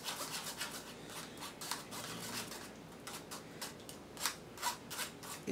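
A plum being cut while making plum ice cream gives soft, close scraping and slicing strokes in a loose rhythm, quiet overall with a few sharper cuts toward the end.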